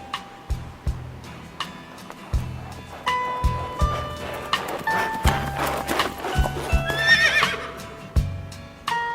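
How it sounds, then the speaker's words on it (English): A large horse-drawn carriage rolls past, its horses neighing and whinnying over irregular clip-clop hoofbeats and wheel rattle, moderately loud and close, with no talk. "Just then, a large carriage passed by."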